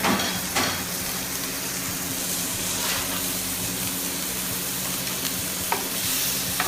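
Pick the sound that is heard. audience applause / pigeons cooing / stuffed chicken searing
stuffed chicken searing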